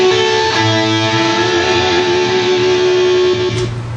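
An electric guitar holds a sustained unison bend from a guitar solo, a loud distorted tone that rings steadily for nearly four seconds with a slight rise near the end.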